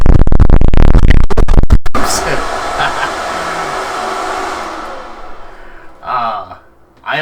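A Max Fan Pro 6-inch 420 CFM exhaust fan blasts air very loudly up close, first with heavy buffeting rumble, then settling into a strong steady whoosh that briefly dips and surges near the end.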